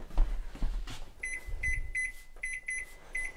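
Electronic kitchen timer in a home kitchen where cookies are being made, giving a series of short high beeps in small groups over low room noise, fairly close and moderately loud.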